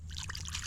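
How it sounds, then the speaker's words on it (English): Hands splashing and rinsing in lagoon water, a short wet trickle and dribble over a steady low hum, close and continuous. "Let's rinse our hands real quick before Mr. Gator thinks we're bait."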